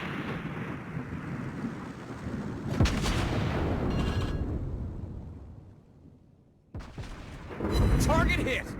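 Naval gunfire from the USS Cleveland in the video game World of Warships Blitz, deep booming blasts rolling over a rumbling background, with a voice talking partway through and another heavy salvo near the end.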